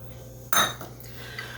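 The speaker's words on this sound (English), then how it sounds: "So you're just going to stir this up and combine it." A single sharp clink of a spoon against a bowl holding softened butter, cinnamon and sugar, brief and close, then quiet.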